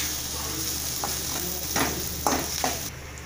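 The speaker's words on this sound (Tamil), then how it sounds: "கருவேப்பிலை, வெங்காயம் நல்லா வணங்கட்டும்." Sliced onion and curry leaves frying in oil for a pumpkin poriyal, a constant close sizzle punctuated by several quick scraping stirs of a spoon against the pan; no talking.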